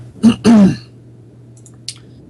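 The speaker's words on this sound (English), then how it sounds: "That's exactly what they need to hear, me clearing my throat, right?" A throat clearing in two short, rough bursts, close and fairly loud, followed by a faint click and a soft low hum underneath.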